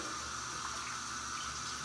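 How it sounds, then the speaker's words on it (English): Water runs steadily from a tap to rinse shaving equipment, a constant hiss of flow at close range with no voices. "So I just take it, turn on the water"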